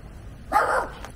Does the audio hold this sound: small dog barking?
yes